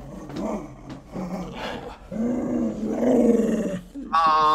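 A grumpy poodle and Bichon mix dog growls and grumbles in low, rough bursts that rise and fall close by, ending in a higher, strained whine, with no talking over it.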